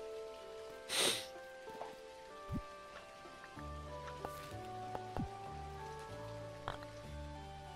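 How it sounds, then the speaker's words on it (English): Rain patters steadily on surfaces in the video game Dinkum, soft and fairly quiet, with a few brighter splash-like ticks and tonal game sounds layered over the continuous drizzle. "Rain all day."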